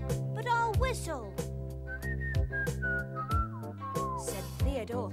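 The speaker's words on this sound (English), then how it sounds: "I can't play, but I'll whistle," A person whistles a simple melodic tune in a children's storytime song, clear sustained notes rising and falling over backing music, close and steady in loudness.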